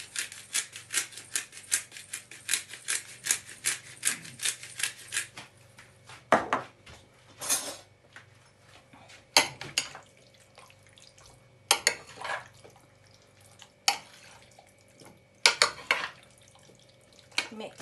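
Chicken wings are mixed with black pepper marinade by hand in a bowl: a fast run of rapid clicking taps, then sporadic wet slaps and clatters spaced a second or two apart, close and moderately loud, with no speech.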